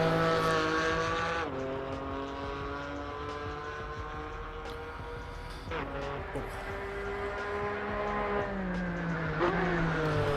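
Race car engine in the video game Assetto Corsa Evo roaring and revving through gear shifts, a loud continuous whine that drops and climbs again, with no talking.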